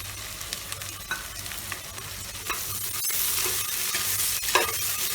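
Sliced onion frying in a pressure cooker for masala pulao, giving a steady close sizzle with occasional scraping stirs that grows slightly louder partway through.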